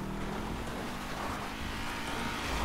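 A fast vehicle drives in the video game GTA 5 with a steady roaring engine and a broadband rush of road and wind noise. It holds continuously and loudly without a break.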